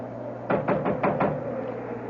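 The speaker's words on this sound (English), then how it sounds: "I'll knock." Five sharp knocks on a wooden door, close and distinct, in a quick uneven rhythm over a faint steady room hum.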